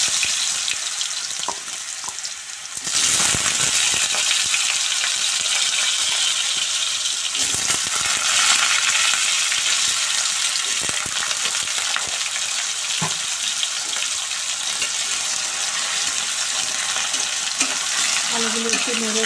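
Diced potato cubes stir-frying in oil with bay leaf and cumin: a loud, continuous close sizzle, broken by occasional utensil scrapes and knocks against the pan as the potatoes are turned.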